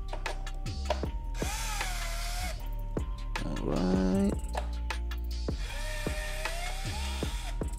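Ratcheting tool driving T25 screws into a front lip on a BMW M3/M4, in a series of sharp clicking bursts with intermittent whirring spins, close and clear, no talk.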